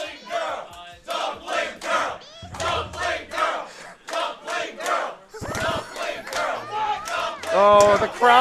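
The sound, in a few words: crowd cheering wildly at fighting game tournament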